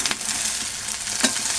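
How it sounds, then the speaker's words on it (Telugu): Egg frying in a pan with a little salt and chilli powder for egg fried rice, a short steady sizzle with a couple of stirring scrapes, close by and without voices. "ఈ ఎగ్ అనేది బాగా ఫ్రై చేసుకోవాలి"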